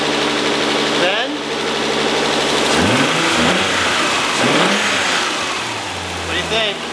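A Nissan 300ZX engine with a twin-turbo swap runs close by, idling with a rough throb and then revving up and down in repeated sweeping blips, while people talk over it.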